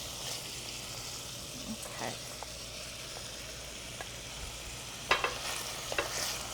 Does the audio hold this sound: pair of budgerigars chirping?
no